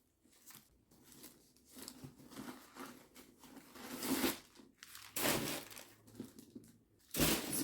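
Plastic packaging being torn open and crinkled by hand, a close run of rustling, ripping and crunching with louder bursts toward the end.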